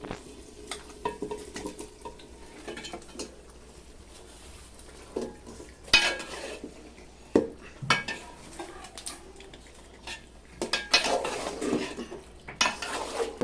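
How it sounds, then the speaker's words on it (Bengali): Beef with garam masala and bay leaf is stirred in a pot over a clay stove, with repeated scraping and clinking of a utensil against the pot over a faint, quiet sizzle. No one speaks. "দিয়ে দিচ্ছি গরম মশলা, কষানো হয়ে গিয়েছে এবং দিয়ে দিচ্ছি মাংস।"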